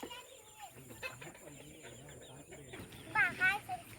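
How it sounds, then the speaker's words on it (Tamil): A hen among a flock of farmyard chickens gives a few close, clear clucks near the end, over a low background of rustling and faint human voices. "இங்கே ஒரு கோழி இருக்கிறாங்க"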